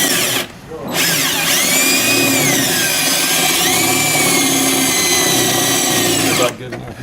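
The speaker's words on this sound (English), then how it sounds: "what you're going to do is drill the head of it out." A power drill bores out the head of a rivet, its motor whining at a steady, loud pitch that dips and shifts as the bit bites into the metal, with brief pauses at the start and end.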